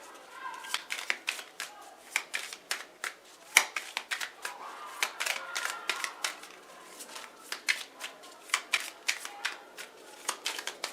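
Oracle and tarot cards being shuffled in quick, crisp riffles and taps that repeat in irregular bursts throughout, close and fairly quiet, with no talking.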